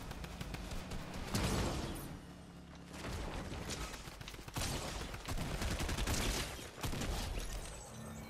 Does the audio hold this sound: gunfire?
yes